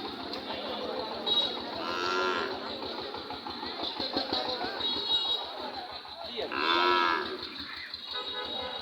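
Cattle moo at a busy cattle market in Meherpur, with two loud, drawn-out lows near by over a constant low engine throb and people talking.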